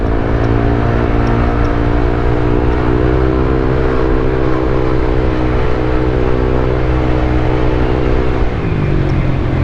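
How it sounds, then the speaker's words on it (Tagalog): A motorcycle engine misfires on an enclosed, walled-in stretch of road during an endurance ride. The tone is a loud, close, droning hum that holds steady with a slightly rough edge, then dips in pitch near the end. "Palyado oh."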